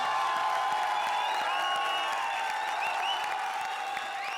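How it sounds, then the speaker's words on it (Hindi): An audience at a comedy circus show claps as a wild card entry is welcomed, a dense, even wash of applause sustained at moderate volume, with faint whoops and crowd murmur mixed in. "जोरदार तालियों से स्वागत कीजिए आज की हमारी वाइल्ड कार्ड एंट्री कार्ड।"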